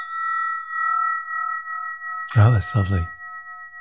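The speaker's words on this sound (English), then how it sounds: "This bell that I'm holding now is called, we call this a spinning bell." A small brass spinning bell rings with a sustained, wavering pure tone that fades in and out, then a person speaks briefly over its fading ring.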